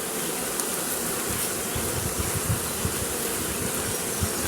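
Honeybees swarm and buzz around a cardboard box set beside a woodpile outdoors, a steady dense hum holding at an even level throughout, with small low thuds scattered underneath.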